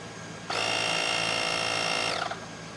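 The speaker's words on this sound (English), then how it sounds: "That little compressor just wants to work, doesn't it?" GOOLOO A3 portable jump starter's built-in air compressor switched on, giving a close, high-pitched electric whir that holds steady for under two seconds and then winds down, with no talk.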